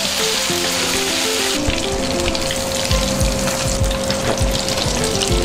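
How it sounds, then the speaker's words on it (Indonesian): Duck pieces for Madura-style black-spice duck fry in hot oil, a loud, steady sizzle and crackle with spattering pops that continues throughout, alone and close by. "Oke, saatnya kita goreng bebeknya guys."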